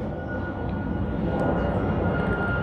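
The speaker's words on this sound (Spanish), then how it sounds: "Disculpen que aquí sí pasan aviones." Steady broad roar of airplanes passing overhead, a continuous low rumble filling the whole stretch at moderate loudness with no talk, heard outdoors during a crochet session.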